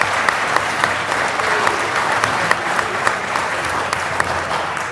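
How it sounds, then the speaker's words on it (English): Steady, full applause from an audience at a public jobs-and-peace forum, many hands clapping in a thick even roar with a few sharper claps standing out, sustained throughout. "give them a great round of applause"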